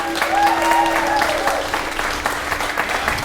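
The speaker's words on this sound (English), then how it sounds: "I'd like to get a big memory round of applause for the crew here at Sawdust" Applause from a concert audience for the crew at National Sawdust, a dense burst of clapping that starts loud and tapers slightly over a few seconds, with a sustained tone lingering beneath.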